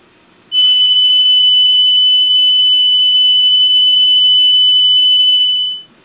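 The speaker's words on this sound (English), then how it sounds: "Okay, now we're going to hear the tone test." Steady high-pitched test tone played back on a vintage Sony TC106A seven-inch reel-to-reel tape recorder, one continuous loud beep-like note lasting about five seconds, alone with faint background hiss.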